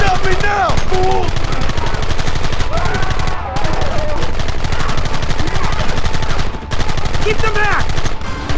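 Sustained, dense gunfire from many weapons in the Red Dead Redemption video game, loud and continuous throughout, with shouted voices cutting in over the shooting.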